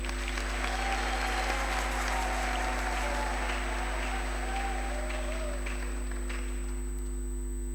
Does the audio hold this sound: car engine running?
no